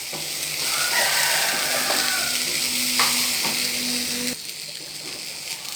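Okra (ladies finger) frying in a pan with egg poriyal, a loud close sizzle under scraping stirring strokes, with the sizzle dropping off sharply toward the end.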